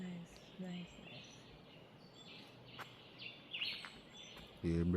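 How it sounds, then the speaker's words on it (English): Scattered bird chirps and calls ring out on a riverside nature walk, brief and moderately distant over a soft background hiss, with a voice briefly speaking at the end. "Just the sound of the birds."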